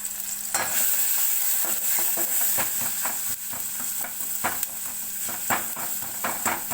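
Tomatoes cooking in a pan with salt and turmeric, giving a steady sizzle with repeated scraping and stirring clicks from a spoon, close and fairly loud, with no voices.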